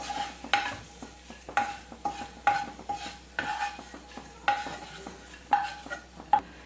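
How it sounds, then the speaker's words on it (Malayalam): Dried prawns roasting in a pan, stirred in a regular rhythm of sharp scraping strokes about every second over a soft, steady sizzle, close and fairly loud with no voices. "ഉണക്കച്ചെമ്മീൻ നന്നായിട്ടൊന്ന് ഫ്രൈ ആയിട്ട് വന്നിട്ടുണ്ട് കേട്ടോ"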